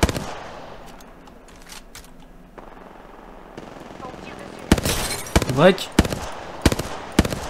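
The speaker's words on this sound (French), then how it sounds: "Ça tire là-haut." Bursts of automatic gunfire in the video game Apex Legends crackle through a match, loud rapid volleys clustered toward the end, while a player speaks briefly over them.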